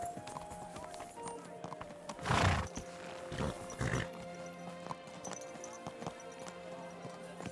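Hoofbeats of a horse in the video game Kingdom Come: Deliverance II clop along under a steady game-like background hum, with a louder burst of movement near the middle and a few more thuds after.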